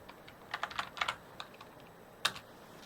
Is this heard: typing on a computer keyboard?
yes